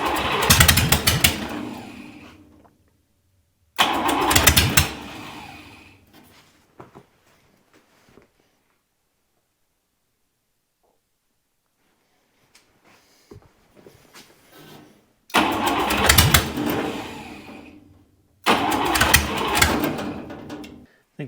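Buick Nailhead V8 in a rail dragster firing for the first time with fuel delivery trouble: four loud, raw bursts of engine roar, each a few seconds long, separated by silence and faint sputters.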